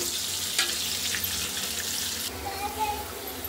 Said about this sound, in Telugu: ఇంకా కొంచెం వేగాలండి.